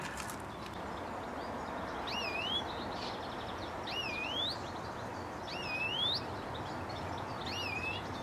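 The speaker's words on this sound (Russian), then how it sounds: "Вы слышите, как тоскливо птичка поет" A bird sings outdoors at VDNKh in a repeated, plaintive rising phrase, four times at a steady pace and at a moderate distance, over a continuous low ambient hiss.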